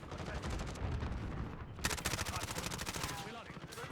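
MP5 submachine gun fire in a first-person shooter video game, two bursts of rapid, evenly spaced shots with a short gap between them, loud and close, over background game noise.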